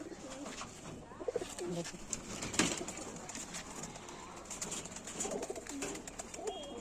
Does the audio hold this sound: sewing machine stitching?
no